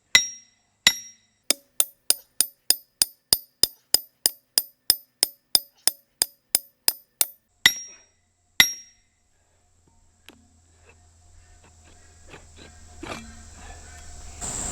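A metal trap stake is hammered into rocky ground with about fifteen sharp, ringing metallic blows in a steady rhythm, close and loud, followed by a couple of slower strikes and then near quiet.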